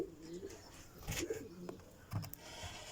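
Soft cooing of a Diyarbakır breed pigeon at low pitch, a couple of brief murmuring calls against a quiet background with faint rustling.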